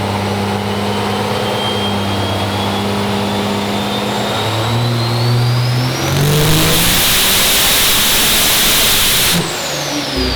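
A 2012 truck engine on a dyno revs hard, its pitch climbing steadily through a long loud pull before a sudden roaring surge near the top and a cutoff, all close and without speech.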